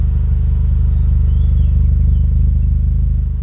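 A Mitsubishi 4G63 twin-cam engine with a rough idle fault idles with a low, even exhaust rumble and regular pulsing throb, close and continuous throughout.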